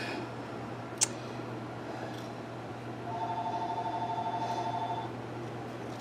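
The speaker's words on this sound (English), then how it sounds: "please just excuse that phone ringing" A home landline telephone rings in a living room, its electronic warble pulsing steadily for about two seconds at moderate distance over a quiet room hum, with no talk.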